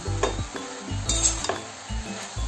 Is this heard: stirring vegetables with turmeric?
yes